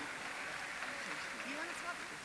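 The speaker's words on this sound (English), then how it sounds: "Please give them a round of applause as well" Large crowd at a corporate investor day giving a round of applause, a dense even hiss of clapping throughout with voices blended underneath.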